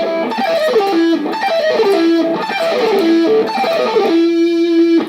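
A distorted electric guitar runs fast repeated descending pentatonic scale patterns, continuous and loud, ending on a held note.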